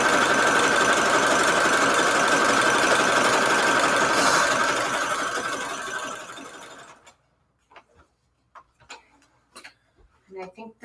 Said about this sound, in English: I got my sewing machine here, and I'm just going to do a zigzag